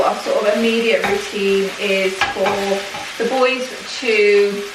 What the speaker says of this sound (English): sorry if you can hear the sizzling in the background and it's annoying you